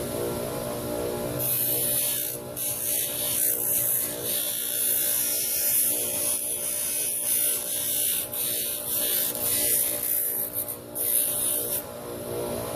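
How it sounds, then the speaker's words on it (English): A grinder takes an edge off metal during a torch conversion build, giving a loud, close, steady whirring grind that carries on without a break. "You got to be really careful when you're working with a grinder"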